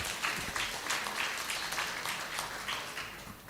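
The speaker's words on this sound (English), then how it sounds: "Please give applause." A lecture hall audience claps for guests of honour, including a Nobel laureate in chemistry, at a public lecture: steady, fairly close applause with dense overlapping claps that holds throughout and tapers slightly at the end.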